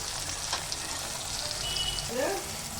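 Onions and tomatoes fry with whole garam masala in a pan, a steady close sizzle with a brief scrape near the end, heard alone.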